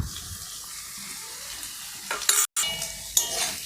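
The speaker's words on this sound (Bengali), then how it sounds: "এবার ভালো করে মিশিয়ে নেব এবং ধীরে ধীরে কষিয়ে নেব।" Ground chili, cumin, coriander and turmeric for a Bengali egg curry stirred and fried in a pan, a steady close sizzle with spoon scrapes and a brief sharp clatter near the end.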